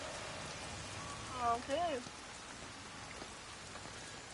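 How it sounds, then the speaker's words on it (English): Steady rain falls in Everybody's Gone To The Rapture, a dense, even patter on surfaces heard close throughout, with a voice briefly speaking over it. "Look, it's raining."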